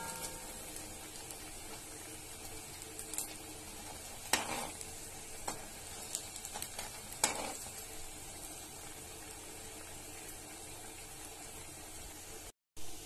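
Bread and coconut samosas deep-frying in hot oil, a steady close sizzle with occasional sharp pops and crackles, no voices.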